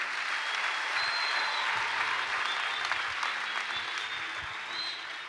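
Sustained crowd applause fills a youth conference hall during a couples session, many hands clapping in a continuous, fairly loud roar that holds level throughout.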